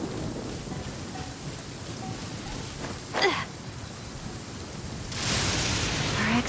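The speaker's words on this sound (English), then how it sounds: "Let us find shelter from the rain." Rain falls steadily in the video game Genshin Impact as a wide, even hiss. A brief crackling burst comes midway, and the downpour swells louder near the end, with no voices.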